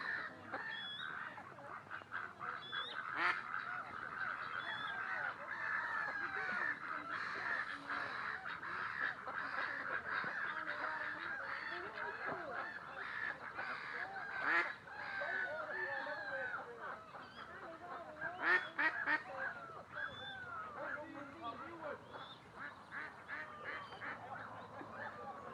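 Waterbirds at a pond squabble, moorhens and coots trading continuous harsh calls and splashy scuffles with a goose nearby, steady and fairly close throughout.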